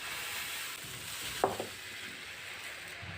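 Onion dosa batter poured onto a hot pan, a low steady sizzle running throughout with one brief sharp splash midway, close and moderately loud.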